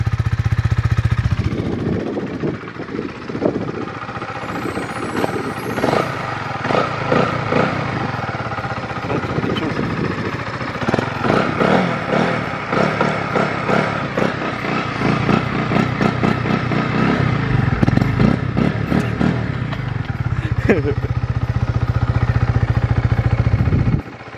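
A Honda CB125R 125 cc motorcycle runs close by, its engine idling and being revved in repeated bursts with a rough, throbbing exhaust note that rises and falls, ending in a sustained higher rev.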